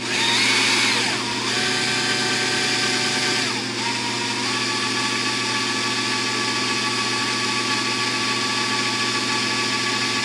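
A power drill bores a hole into a car body panel, producing a loud, continuous whine that shifts pitch as the bit bites through the metal, with no voices.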